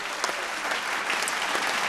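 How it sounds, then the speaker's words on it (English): Steady audience applause during a televised vocal competition show, a dense and even wash of clapping from a studio crowd that holds at moderate loudness for the whole short stretch with no voices over it. "a final round of applause for Dreamin' Luxury Service Apartments, our accommodation partner for the Battle of Two Seasons"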